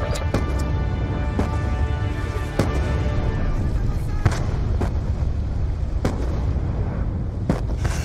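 Mortar fire in the video game Call of Duty: Black Ops 2: scattered deep booms and sharp blasts land at irregular intervals over a constant rumbling battle din, fairly loud.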